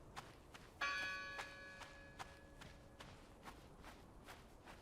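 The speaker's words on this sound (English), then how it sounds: "Who's ringing the bell?" A single church bell in the horror adventure game Draugen strikes once and rings on, its tone decaying over about two seconds, set against soft repeated footsteps and a quiet ambient background.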